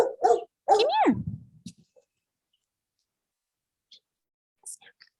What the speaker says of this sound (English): Sorry if you can hear our dog in the background.